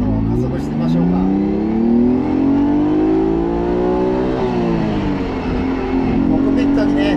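A classic Ferrari Dino 246 GTS engine revs up through the gears, its pitch climbing steadily, dipping at a shift, then rising again, loud and close.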